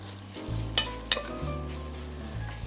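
Onions with herb salt in a pot, a steady soft sizzle broken by a couple of sharp utensil clinks against the pot and scraping stirring strokes, close and moderate.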